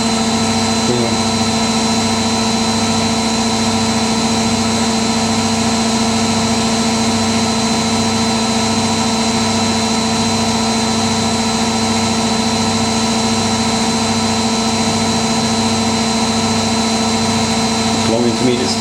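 Indesit WIDL102 washer dryer on a long intermediate spin during a white cotton 90°C wash, a loud steady motor whine and hum with a constant pitched drone, close and unbroken for the whole stretch.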